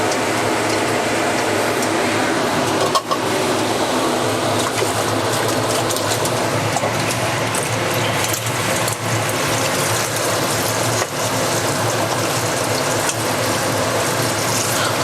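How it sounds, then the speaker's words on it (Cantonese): Cooked noodles being rinsed under a cold running tap: a steady, full rushing hiss of water that continues unbroken for about fifteen seconds, with only a few faint knocks and no talking. "而家我就同啲麵過冷河啦"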